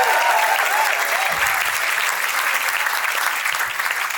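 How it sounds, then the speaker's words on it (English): A comedy show crowd at the Victoria Hotel during the Melbourne International Comedy Festival claps and cheers, a dense steady burst of applause from a full room, slowly fading a little toward the end. "Give yourselves a round of applause"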